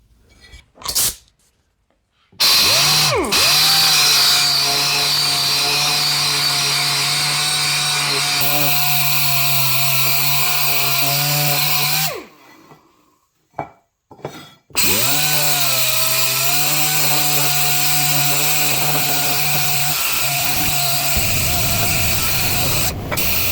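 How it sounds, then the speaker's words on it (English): Polishing wheel buffing a Harley-Davidson Sportster Evolution rocker box, a loud steady motor whine with harmonic hum, running long, briefly cutting out and then spinning back up and continuing close by. "Just gonna hit it with a little bit of sandpaper and then take her over to the polishing wheel."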